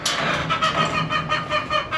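A rooster crows nearby, loud and raspy, over faint background noise.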